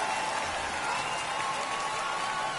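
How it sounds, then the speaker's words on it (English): A minor-league baseball crowd at a San Antonio Missions game against the Corpus Christi Hooks cheers and claps after a run scores, a faint, steady and distant roar with no break. "The crowd goes nuts."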